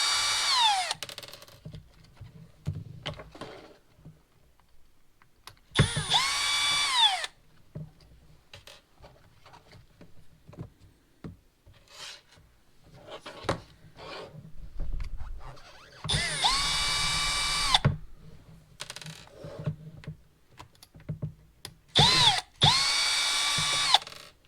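A Latrax Teton RC truck has its tires removed with a power driver, several short whirring bursts separated by quiet gaps and soft clicks of handling parts.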